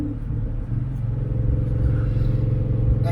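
A car with a loud modified exhaust, its resonator removed, rumbles deeply and steadily while driving, with a continuous low drone close up and no talking.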